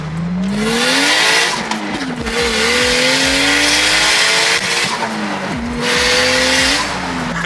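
Nissan S15 drift car sliding with loud, continuous tire squeal over a revving engine, the pitch rising and falling through repeated drift passes, close and intense, with no talking.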